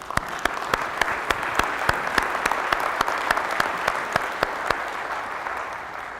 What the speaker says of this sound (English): give these guys a round of applause, please